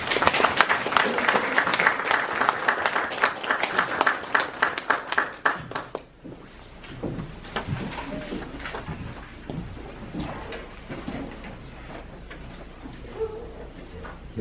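A church congregation breaks into loud applause at a founding service, dense clapping for about six seconds before fading into a quieter room with scattered sounds and a voice.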